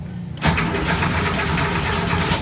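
A car engine cranks without catching, a steady loud churning that begins abruptly and continues alone without firing, in a no-start situation.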